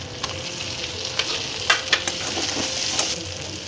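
Chopped garlic frying in a pan for butter garlic prawns: a bright, close sizzle with scattered stirring clicks and scrapes, no voices.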